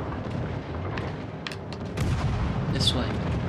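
Naval ship guns booming in World of Warships Legends, several heavy rumbling shots with sharp cracks over a continuous low battle roar, a player's voice briefly heard.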